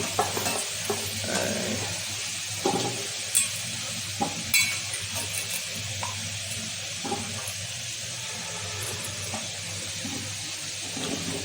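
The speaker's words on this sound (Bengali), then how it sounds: "এবার আলু ভাজি করতে হবে" Potatoes fry in a pan with a continuous hissing sizzle, punctuated by occasional clinks and scraping stirs, close and moderately loud with no talking.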